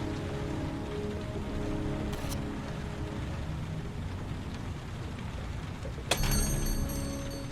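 Steady rain from the video game Heavy Rain, a continuous close hiss of falling drops that holds level throughout and is joined near the end by a brief brighter chiming tone.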